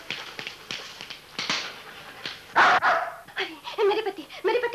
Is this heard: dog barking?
yes